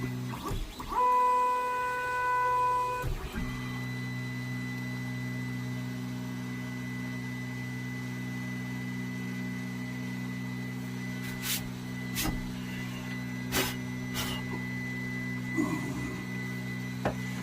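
Steady mechanical hum of a Geeetech 3D printer auto-homing, with a brief rising whine at the start, then continuous motor drone and a few sharp clicks as parts move.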